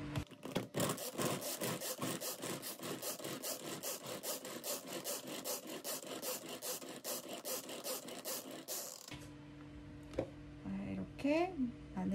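Manual pull-cord vegetable chopper mincing garlic cloves with a piece of onion, a rapid run of rhythmic whirring and scraping pulls up close, then stopping to a quieter clatter of handling.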